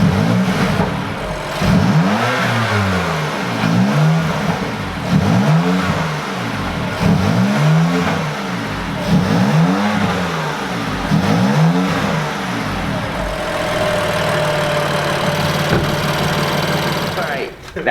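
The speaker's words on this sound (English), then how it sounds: "so that's cold start, so it doesn't let me go over 3 grand RPM, so we're gonna let it warm up a little bit" A BMW F80 M3 engine idles after a cold start with repeated revs that climb and fall every couple of seconds, held low by the rev limit, loud and close, then settling back to a steady idle.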